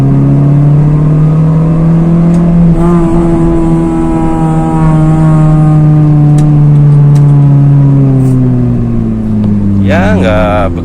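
A manual Honda Jazz with an 88 PS engine accelerates hard in second gear, its engine note a loud, steady drone rising and falling in pitch close by, with a brief voice near the end.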